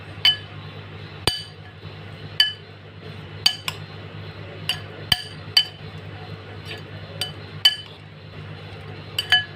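A utensil stirring powdered food colouring into a mixture in a bowl, giving sharp, irregular clinks against the bowl every second or so over a quiet low hum.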